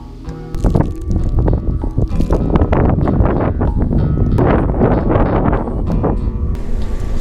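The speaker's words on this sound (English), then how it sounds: "Super windy." Strong wind on a lonely road in the Ontario Highlands buffeting the microphone in loud, uneven gusts and low rumbles, with faint bumps and rattles underneath.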